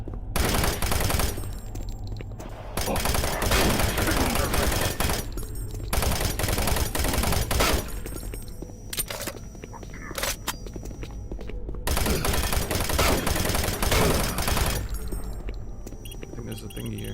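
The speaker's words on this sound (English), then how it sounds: "I like this machine gun." Bursts of rapid machine gun fire in Doom 3, loud and close, coming in several volleys separated by brief pauses, with footsteps and game effects between them and occasional talk.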